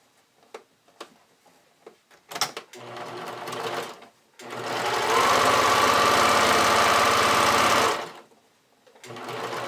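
Sewing machine top stitching folded-over elastic on a bodysuit: a few light handling clicks and taps, then a loud, close, steady motor hum with rapid needle ticking for several seconds before stopping, followed by quiet handling.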